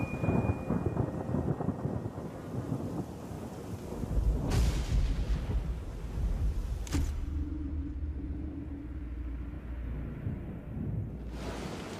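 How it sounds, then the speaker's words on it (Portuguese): Steady heavy rain hisses over a wide savanna while deep thunder cracks and rolls, with loud claps breaking through and rumbling away. "Chuva."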